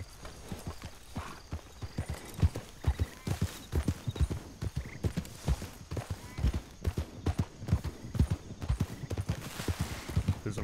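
Horse hooves clip-clop in a steady, close, fairly loud rhythm on a country property, with an occasional faint neigh and no talking.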